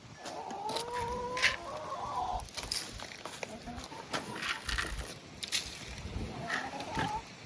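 Chickens cluck faintly in the background outdoors, with scattered short clucks and calls over a low ambient hiss and occasional clicks.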